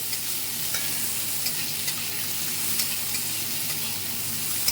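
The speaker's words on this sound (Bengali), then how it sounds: "এবার আমি 1 মুঠো কিশমিশ ধুয়ে রেখেছিলাম, সেটা দিয়ে দিলাম। সেটাকেও অল্প করে ভেজে নেব।" A handful of washed raisins fry in a pan alongside nuts, producing a continuous crackling sizzle with occasional faint stirring ticks, steady and moderately close, without speech.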